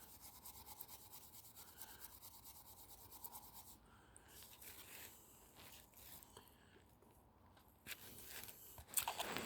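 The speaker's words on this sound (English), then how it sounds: "I'm going to rub this with the wire wool." Wire wool rubbed over a cold cast bronze resin model, a soft continuous scratchy rasping that swells and fades in uneven strokes, close but faint, with no talking.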